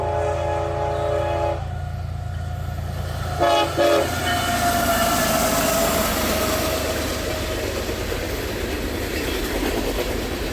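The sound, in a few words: CSX freight train passing with horn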